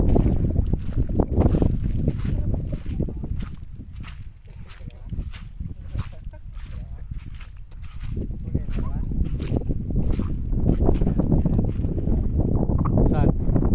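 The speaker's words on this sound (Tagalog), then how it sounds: "Malakas na yung hangin ngayon dahil amihan na." Strong amihan monsoon wind buffets the microphone at sea aboard a boat, a continuous loud roar with gusting rumble and splashing water throughout, while people talk over it.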